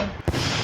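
A single short explosive thud bursts out over a busy, noisy Roblox ragdoll game soundscape, then the dense background continues.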